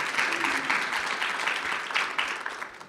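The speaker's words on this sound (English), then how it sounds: "Give a round of applause for both of them" An audience at a basketball panel discussion applauds, a dense, steady wash of clapping from many hands filling the room at close range.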